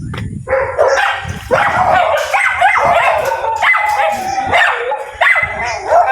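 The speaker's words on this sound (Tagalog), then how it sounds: "Dami nilang aso." Several dogs bark and yip repeatedly at close range, overlapping one another, with a few whimpers and howl-like cries mixed in.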